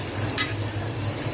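Steady sizzling of a breakfast snack frying in a pan, crackling continuously and close, with one brief clink partway through and no voices.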